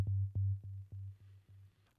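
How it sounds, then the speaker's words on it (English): A default initialized sine wave from the Bazil CM synth plugin plays a low steady tone through a delay line. Each attack is echoed by a string of repeats that fade softly over two seconds, with no talking. "Apart from hearing a defaulted sine wave, we're also hearing a delay line."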